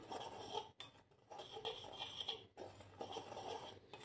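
Chili powder being stirred into a thick pakoda batter: a spoon scraping and clinking against a bowl in quick, uneven strokes, close but quiet, with two short breaks.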